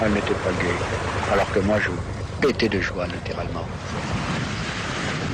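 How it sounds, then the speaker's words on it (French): Sea waves and wind rush continuously around a sailboat leaving Plymouth, a broad steady roar under a voice speaking throughout. "Vous entendez? C'est le bruit de la mer."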